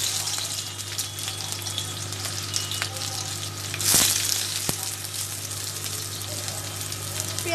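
Dried red chillies fry in oil as onions go in, a steady close sizzle that swells briefly into a louder hiss midway before settling.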